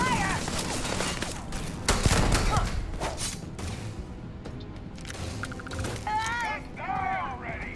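Gunfire in the Starfield video game: a burst of loud shots and mechanical clacks up front, then scattered impacts and game effects, with voices shouting during the fight.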